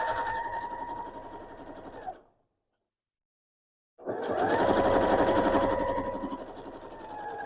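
Sewing machine doing straight-line quilting through layered fabric, running in two steady bursts separated by a short silent pause, the motor whir loud and close.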